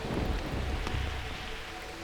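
Rain falls steadily in a Papua New Guinea jungle, a dense, continuous hiss with a low rumble underneath and no voices.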